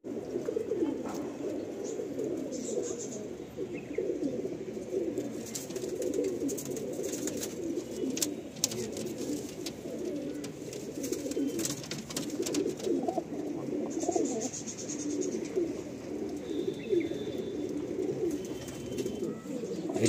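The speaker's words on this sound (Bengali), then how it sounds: "এটা একটা ঘরের পায়রা" Madrasi pigeons coo continuously in a loft at Bankra, Howrah, a dense chorus of low throaty calls close by, with scattered wing flaps and chirps over about twenty seconds.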